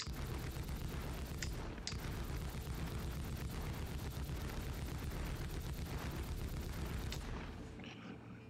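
Rhino remote turret guns on an Anvil Carrack in Star Citizen fire in a loud, continuous rapid barrage for about seven seconds, dense booming bursts with a few sharper cracks, then easing off toward the end.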